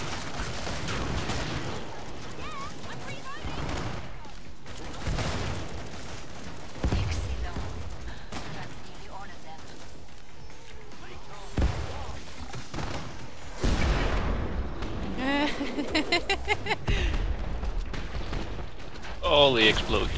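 Explosions and gunfire in the co-op shooter video game Killing Floor 2, with repeated booms and bursts of shots throughout and heavier clustered blasts toward the end, mixed with game voices.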